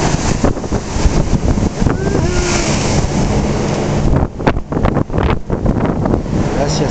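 Storm wind and heavy waves of water on the southern coast, a loud continuous roar with buffeting gusts against the microphone and surging crashes, close and overwhelming throughout.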